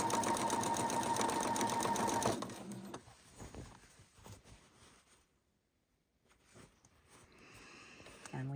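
A sewing machine stitches through the layers of a patriotic quilt in one steady, fast run for a couple of seconds, then stops, leaving soft handling noises and near-quiet with a few faint clicks.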